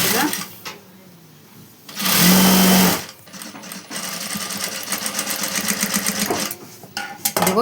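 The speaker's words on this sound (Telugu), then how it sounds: "ఇలా పెట్టి స్ట్రైట్గా ఒక కుట్టు వేసుకుందాం" A sewing machine runs a straight seam along a strip on a girl's umbrella frock, with loud whirring bursts that start and stop, and someone talks in between.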